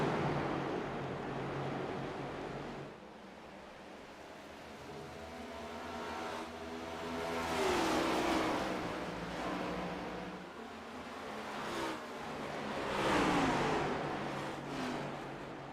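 Stock cars roar down the back straightaway in a racing game, engines swelling as they pass close by in two waves, with rising whines and revving over a steady low drone.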